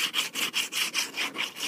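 Rhythmic back-and-forth sanding strokes with sandpaper on a painted plastic Magpul PMAG magazine, about eight even rasping passes, close and steady.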